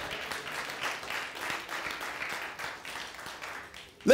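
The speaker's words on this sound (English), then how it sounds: "Clap your hands and praise the Lord." A church congregation claps hands during a sermon, producing a moderate, uneven patter of many claps that is fairly close. It ends with a sudden louder burst.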